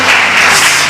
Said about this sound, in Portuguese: Dá aplauso ao Senhor Jesus.